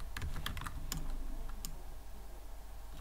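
Keys tapped on a computer keyboard while writing Python code, a few quick clicks near the start and then sparse single taps over steady low room hum.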